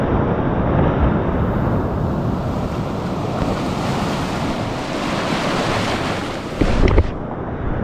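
Rough surf rolling onto a beach at Casapsapan on the Pacific coast of Casiguran, Aurora, a continuous loud wash of breaking waves with wind buffeting the microphone and a brief bump near the end.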